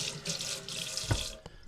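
Tap water running into a kitchen sink while a fishing rod and hands are wetted, a continuous splashing hiss with a brief louder slosh near the end, close and alone.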